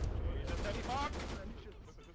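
Gunfire in the video game ARMA 3 comes as a dense burst of overlapping shots with a low rumbling bed during a cooperative firefight, fairly quiet overall and fading toward the end.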